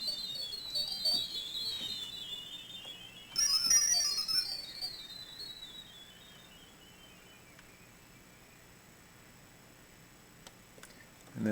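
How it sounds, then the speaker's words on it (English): Bell-like tone from a Roland D70 synthesizer with random modulation, a bright shimmering pitch that wavers and slides downward, swelling louder around the middle before fading to near silence; no talk. "So you've got a random modulation of a bell sound."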